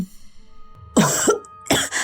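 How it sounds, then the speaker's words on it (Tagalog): A woman coughs in a few harsh bursts, close by, after a quiet stretch with faint background noise. "Inuubo si mama."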